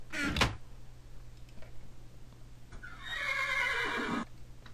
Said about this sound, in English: Damn horse is annoying.